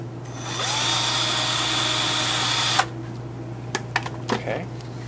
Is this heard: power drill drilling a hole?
yes